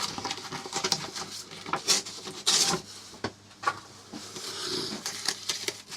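A 240 grit sandpaper pad rubs against an elm and walnut bowl spinning on a lathe, producing a close, uneven rasping hiss with sharper scratchy swells.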